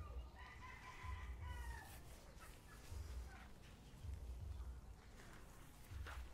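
Kelso gamefowl rooster with a hackle, heard in repeated low clucking and calling bursts with faint higher crow-like calls, moderately near over steady outdoor background.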